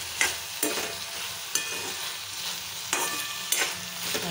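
Paste being sautéed with drumsticks in a pan for a coconut milk curry, a soft steady sizzle broken by several distinct scraping stirs of a spoon, close and alone without talk.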